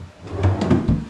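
A storage drawer built into a bed box in a small rowhouse bedroom slides open or shut, a few soft wooden thumps and scrapes close by, with no talk.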